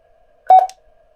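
A quick burst of electronic beeps from a PMR-171 radio's antenna tuner rises over a faint steady tone, lasting under half a second before the hum continues alone.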